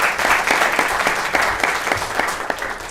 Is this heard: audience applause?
yes